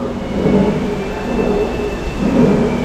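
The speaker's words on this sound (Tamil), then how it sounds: "மழை ஒரு சைடில் அடித்தது அடித்தபடியே இருக்குது" Heavy rain pours steadily at a temple in Sri Lanka, a dense, continuous wash of broadband noise with low rumbling swells and no voices.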